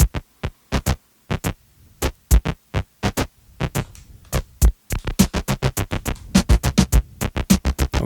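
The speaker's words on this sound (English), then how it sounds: "So slicer is actually going to chop out or bring in different sounds." Choppy slicer glitch effect from a Roland MX-1 performance mixer cuts a sound into sharp rhythmic bursts, with gaps of near silence between pulses before a denser, faster run of stutters near the end.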